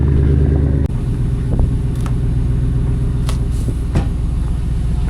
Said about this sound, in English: let some little bit of engine heat get made, and we can listen to that V8 rumble